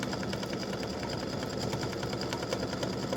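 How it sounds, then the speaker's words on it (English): Embroidery machine stitching a butterfly design in an edge-to-edge pattern, a steady loud motor whir with a fast, even stitching pulse throughout, close and uninterrupted. "So here we come, and it's going to stitch the butterfly."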